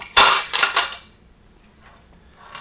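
A quick burst of metallic clattering and jangling from chains taped to an object for armor foley, three or four shakes close up, then near silence.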